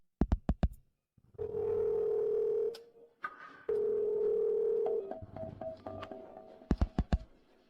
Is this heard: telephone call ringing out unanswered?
yes